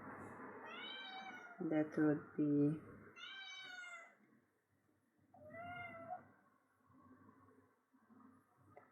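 A kitten meows several times, rising and falling cries spaced across the stretch, with someone speaking quietly in between and a short burst of other noise near the start.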